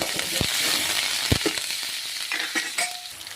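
Curry leaves, green chillies and hing hit hot oil, a dense steady sizzle and crackle up close, with a few brief knocks and clinks of a utensil against the pan and no talking.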